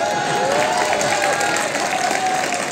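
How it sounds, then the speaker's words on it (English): An audience at an engineering college felicitation ceremony for medalists applauds steadily, a dense wash of clapping with some crowd noise throughout. "So please give them a big round of applause."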